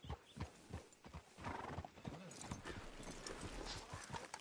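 Hooves clip-clop on a hard surface while a horse whinnies, the steps and neighing fairly close and continuous, in a video game.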